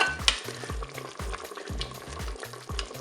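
Steaks frying with mustard sauce in a Cookeo pot sizzle steadily up close, while regular scraping stirs repeat in a rhythmic pattern throughout, with no voice.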